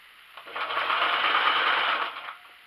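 A sewing machine stitching a blouse runs in one steady, even whir for about two seconds, close and clear, starting and stopping cleanly.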